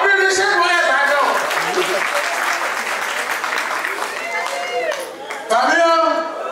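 Wedding guests clapping at a reception during a Cameroonian comedian's set, a sustained crowd applause with shouts and a talking voice over it, briefly dipping before a loud voice cuts in near the end.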